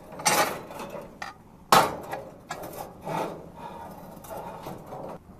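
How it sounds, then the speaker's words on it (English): Nearby clanks and thuds ring out as a metal grill grate is lifted and a smoker box is set down on top of the gas burners, a few separate knocks and scrapes with no talk. "I'm going to lift up the grate, and I'm going to put this smoker box right down on top of the burners"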